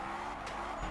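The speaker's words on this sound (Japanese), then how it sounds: "ジャンプからのドリフト" A car in the Need for Speed racing game lands from a jump and drifts, its tires squealing loudly and continuously under a steady engine roar for a brief moment.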